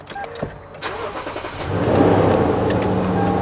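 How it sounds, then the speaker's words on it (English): A Lexus GX460 engine cranks briefly and catches, settling into a steady, fairly loud idle up close with no talking. "Car started fine"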